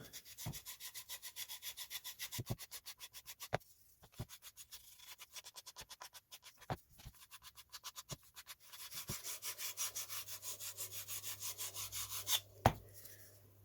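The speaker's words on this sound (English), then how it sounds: "Just leading edge to sand. Just gonna smooth it up, just round it up." Sandpaper rubs back and forth along the wooden leading edge of a Guillows Spitfire model airplane tail, making quiet, rhythmic scratchy strokes up close, in quick series broken by short pauses and a few taps.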